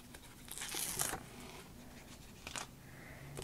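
A cut piece of adhesive is peeled from a sheet in two brief, faint tearing rustles, the first longer and the second short, in a quiet room.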